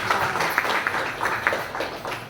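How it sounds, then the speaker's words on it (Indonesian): A classroom of students claps together after a lesson on digital archive management, producing a dense, steady patter with light rhythmic peaks that lasts a couple of seconds. "Oke, kasih tepuk tangan."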